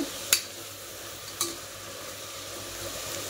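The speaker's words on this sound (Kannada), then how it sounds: "ಟೊಮೆಟೊ ಹಾಕಿ ಚೆನ್ನಾಗಿ ಮಿಕ್ಸ್ ಮಾಡಿ" Tomatoes cook in a pan for tomato bath, under a faint continuous sizzle with two sharp clinks of a spoon against the pan near the start.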